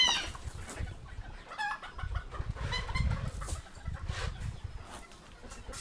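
Several chickens cluck and squawk close by in scattered, overlapping bursts, with a few higher calls and a low rustling background.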